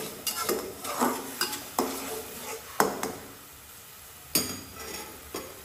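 Spice masala with salt sautéed in a pan for a small baim fish bhuna, a spoon scraping and stirring in irregular strokes with sharp clinks against the metal over a low, steady sizzle.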